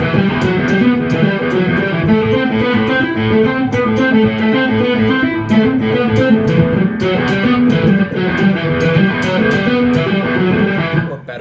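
Electric guitar playing a riff, a loud, driven repeating pattern of fast picked notes with a steady rhythm and sharp pick attacks, continuous and alone.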